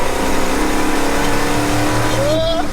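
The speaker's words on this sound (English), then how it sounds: "This truck shouldn't be moving this quick." A 50-year-old farm truck pulls hard in third gear, its engine roaring loud and close with a steady rising drone. Near the end a thin whine climbs upward.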